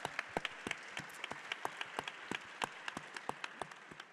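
Applause rises from an audience at a panel event, steady scattered clapping with a few sharper individual claps standing out, fairly quiet and heard from a distance with no talking over it.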